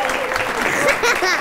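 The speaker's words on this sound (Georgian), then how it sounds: "რა კიდევ ერთხელ აპლოდისმენტები." A studio audience at a late-night TV show applauds young contestants from a children's talent show, a dense, steady patter of clapping that continues throughout with some voices mixed in.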